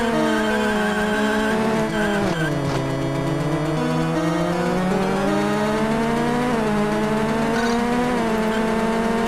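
Racing cars in the Game Boy Advance game GT Advance, with steady, loud engine whine and shifting pitched tones throughout, and a sliding dip in pitch around a skid partway through; no talking.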